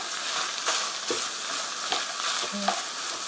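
Onions being stir-fried until golden for tofu with meat sauce produce a loud, steady sizzle broken by several utensil scrapes and a small clink against the pan, close up and without speech.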